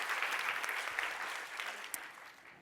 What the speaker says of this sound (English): Can we get another round of applause for all of our demos?